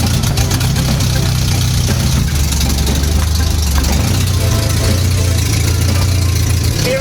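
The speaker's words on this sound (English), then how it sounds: "Hearing an exhaust leak, put that on the list." An abandoned VW Mk2 Scirocco idles at close range with an exhaust leak, giving a steady, loud engine drone with a rough, ticking undertone throughout.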